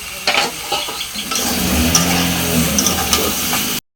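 A paste of ginger, garlic, onion and green chilli fries in a pan for jackfruit curry, a steady close sizzle with light stirring scrapes, ending abruptly.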